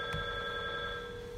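A telephone rings inside an oil change shop, with steady bell tones sounding close and fairly loud over a constant background hum. No one speaks.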